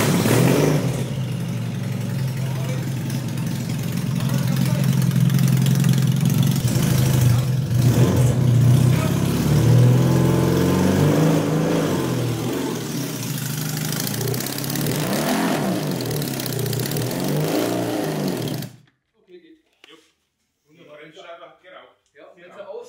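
BMW HP2 motorcycle engine after a rally, running loud and close at idle with several rising and falling revs for about eighteen seconds before cutting off, with voices talking over it.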